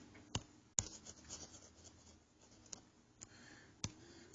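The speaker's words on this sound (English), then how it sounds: "Let me just erase that here so I got room to write it underneath." Erasing and writing on a board during a math lesson, heard as faint, sparse clicks and scratchy strokes with a few sharper taps, close and quiet, with no talk over it.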